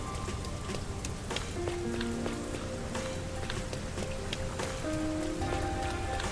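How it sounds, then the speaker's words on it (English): Steady rain falls without pause in the city of Rain Code, a dense hiss of drops spattering on surfaces, with soft game chimes and tones drifting over it. "It rains 24/7."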